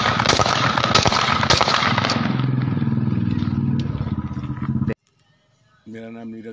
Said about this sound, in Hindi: इस दौरान पुलिस जवान ने अपनी बंदूक से एक के बाद एक कई फायर किए।